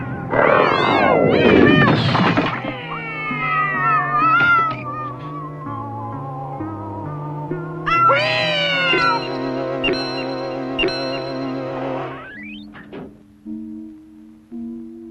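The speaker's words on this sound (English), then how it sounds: "It was the amazing Cosmic Cat." A cartoon space cat from a children's animated series gives long, sliding, warbling meows over a musical background. The calls are loud and swooping, and the melody carries on beneath them.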